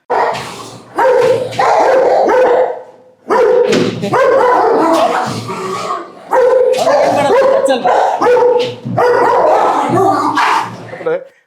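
A dog at a home barking loudly and repeatedly in close, rapid bursts, with yips and whimpers mixed in and short pauses between volleys.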